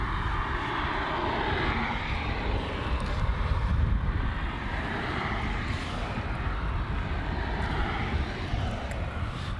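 Airliner departing Melbourne Airport for Hobart, a continuous rumbling engine roar at moderate distance, steady and fairly faint throughout with no talk.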